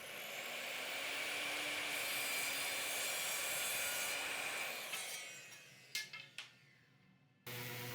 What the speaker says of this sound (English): now I'm ripping them down on the table saw to their final width